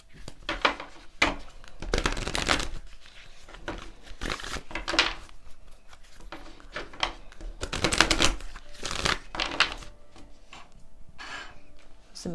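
Tarot cards being shuffled and drawn during a reading, a run of quick papery flicks and slaps coming in bursts with short pauses between, close and fairly soft.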